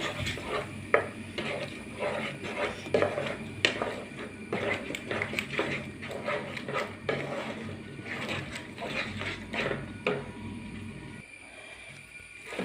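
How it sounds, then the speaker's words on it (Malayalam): Semolina mixed with salted raw plantain is stirred in a pan, a steady close scraping and clinking of spoon against metal with a faint sizzle underneath, continuous for several seconds before easing off near the end. "ഇത് നന്നായിട്ട് ഇളക്കി കൊടുക്കാം"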